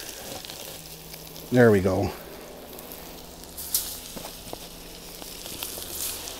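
Perch fillets going into melted butter in a pan over an open fire, a low continuous sizzle with a brief louder burst early on. Someone speaks briefly over it.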